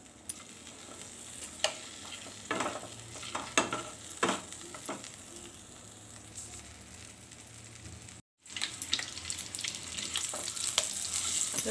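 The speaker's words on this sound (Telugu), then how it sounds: "ఇప్పుడు ముందుగా ఉడకపెట్టుకుని ఉంచుకున్న ఎగ్స్ని కొంచెం లైట్గా వేపుదామండి" Hard-boiled eggs fry lightly in hot oil in a pan, a steady close sizzle with scattered sharp pops and crackles, briefly cutting out before the frying resumes loud and even.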